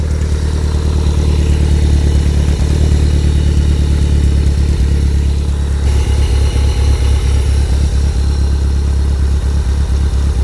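A Skoda car engine runs loud and close at a steady idle, a rough, throbbing rumble with a clattering beat that continues throughout.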